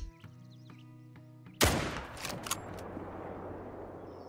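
Rifle shot at a buck from a tree stand in the hunting video game Call of the Wild, one loud sharp blast with a rolling echo that fades, preceded by quiet tonal game sounds.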